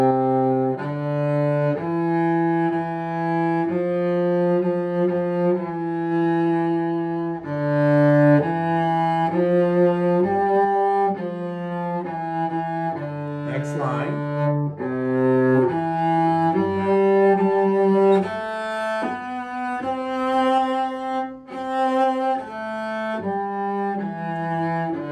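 Solo cello plays a simple beginner exercise song with steady, evenly spaced bowed notes, close and clear, continuing for about twenty-five seconds without speech.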